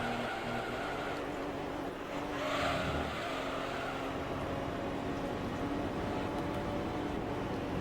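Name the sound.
race car engine at top speed in video game Gran Turismo 3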